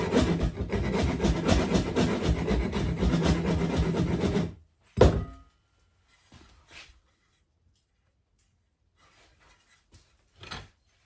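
An old, rusty but sharp rasp files wood for a cigar box guitar in quick, rough back-and-forth scraping strokes for several seconds, followed by a few isolated single scrapes and knocks separated by quiet pauses.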